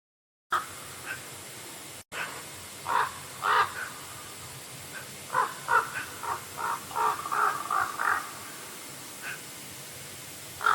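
A crow caws repeatedly in loud, ragged bursts clustered through the middle and later part, some calls doubled or overlapping as if from more than one bird, over a steady hiss with no talk.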